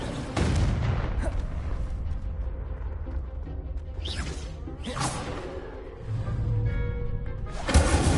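Incendio fire spell cast in Hogwarts Legacy: several whooshing bursts and booming blasts sweep through, loud and close, with brief crackling flares between them and a final sharp burst at the end, no voice over them.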